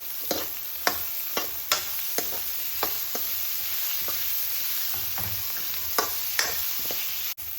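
Onions, garlic, ginger and green chili frying in a pan, a constant sizzle broken by sharp scraping strokes of a spatula every half second or so, close and alone.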